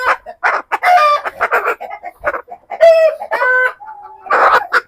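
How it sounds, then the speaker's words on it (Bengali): Tiger breed chickens, hefty birds of four to four and a half kilograms on a farm, cluck in short bursts close by while a rooster crows loudly in between. "এটা হচ্ছে একটা অরিজিনাল টাইগার মুরগির প্যারেন্টস"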